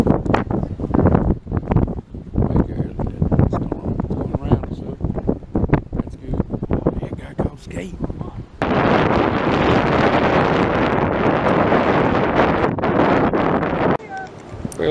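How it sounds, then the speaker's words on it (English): Rough wind buffets the microphone at Avalon Pier, gusting in bursts under some talk before settling into a steady, loud roar for the last several seconds. "wind's rough out here."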